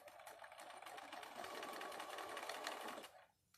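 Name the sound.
sewing machine stitching fabric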